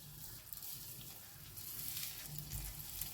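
Oil-coated brinjal slices fry softly on a tawa over low heat, a faint, even sizzle with small crackles throughout.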